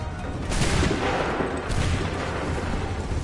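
Soldiers fire muskets in Assassin's Creed 3, a dense crackling volley of overlapping shots swelling twice over a steady loud battle din.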